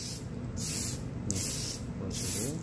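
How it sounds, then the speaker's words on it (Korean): Spray paint hissing from an aerosol can onto a 26 cm soft vinyl figure, coming in three steady bursts with brief pauses between them, close and moderately loud, with no talking. "지금은 스프레이 아낄 때가 아닌 것 같아요."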